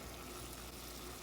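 Hamburger meat with onion and seasoning frying in a pan, a faint, even sizzle crackling steadily for a brief moment with no talk.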